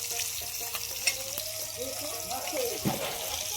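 Steady sizzle of salted fish frying in a pan fills the background while people talk over it, with a few light clinks and splashes.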